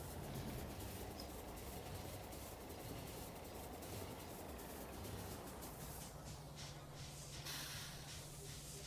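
Train ride in the Factorio video game, a steady rumbling roll with a rhythmic ticking texture and a faint hiss, constant and fairly quiet, with no voices.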